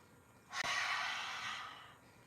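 A single deep inhale through the nose during a gentle morning yoga squat, close and clear, rising sharply then tapering off over about two seconds with nothing else around it.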